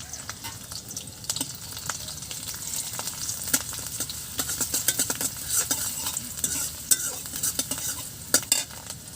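Green chili, onion and garlic sizzle and fry in hot oil in a pan, with a steady crackle and frequent scraping stirs, close and fairly loud, no voices.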